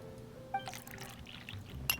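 Juice poured into a glass in a video game: a brief, faint trickle and splash of liquid with a light glassy clink at the end, quiet and close.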